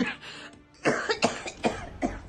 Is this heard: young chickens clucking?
no